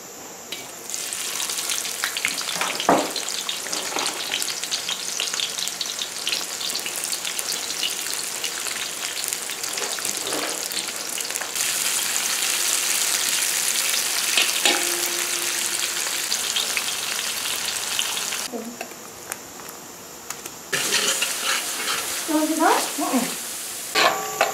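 Onion fries in a pan for a chana and potato curry, a steady close hiss of sizzling oil with occasional stirring scrapes and clinks, a brief pause, then the frying resumes.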